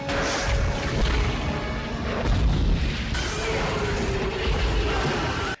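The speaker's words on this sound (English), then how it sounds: "the explosion also messes up the CG effects" Movie explosion set off by a natural gas leak trap in an action film, a loud sustained blast with crashing, rumbling debris over about five seconds and a second surge partway through.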